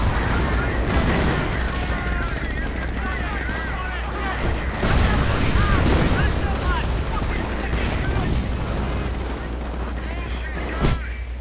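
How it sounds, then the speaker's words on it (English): An artillery barrage in a WWII strategy game thuds and booms continuously beneath sporadic gunfire, a steady, heavy wall of impacts with people talking over it. "Artillery's coming down there."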